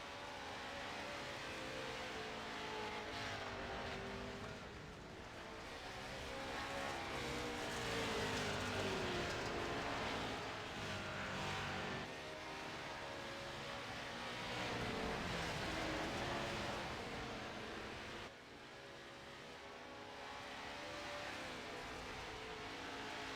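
Pro 4 off-road race trucks roar around the Eldora dirt oval, a dense continuous wall of loud engine noise with rising and falling revs as the pack circles, staying steady and close throughout.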